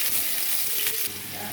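Onions sizzle and fry steadily in hot oil in a pan with bay leaf, cinnamon and fennel, a close, continuous crackle that dips slightly in loudness near the end.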